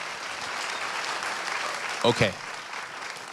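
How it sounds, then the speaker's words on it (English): A studio audience applauds in a steady burst of clapping that carries through the whole stretch, while a person briefly speaks over it. "Give her a round of applause."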